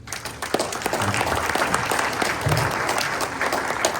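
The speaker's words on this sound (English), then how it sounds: "let's have another round of applause for all these people" A crowd at a Republican forum for City of Naples council candidates applauds in a sustained, fairly loud wash of clapping, with a faint voice underneath.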